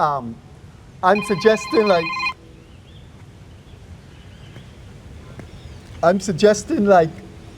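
A telephone rings in two bursts of trilling rings, one early and one near the end, separated by quiet background during a radio talk show broadcast.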